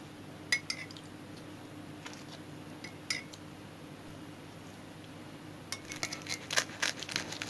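A knife cuts into a freshly baked sugar pie straight from the oven, giving scattered faint metallic clinks and scrapes against the pan. The clinks bunch together more densely toward the end over a quiet background.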